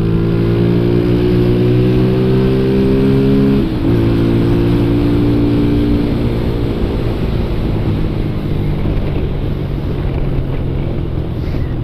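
A Honda CG motorcycle engine revs hard and climbs through the gears, steady and loud with a brief dip at a shift, while wind rushes over the microphone throughout.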